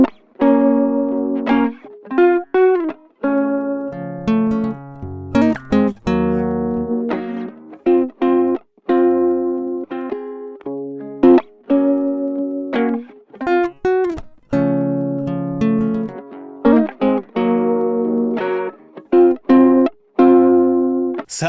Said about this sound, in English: Then let's compress it. I'm using the classic VCA compressor this time.